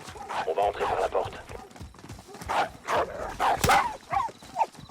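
A dog barks in short repeated bursts during a Call of Duty: Modern Warfare mission, with voices talking over it and game sounds mixed in around the barks.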